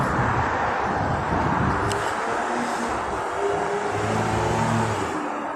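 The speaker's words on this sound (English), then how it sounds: "Now, look at the cars that are going by right now," Steady stream of passing cars on a city street, including Mercedes, Lexus, Infiniti, Jaguar, Rolls-Royce and Honda models, forming a continuous, fairly loud traffic rumble and whoosh with no talk over it.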